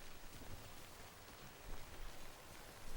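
Steady broadband hiss of rain falling in the video game Death Stranding, a constant soft wash with slight swells and no voices over it.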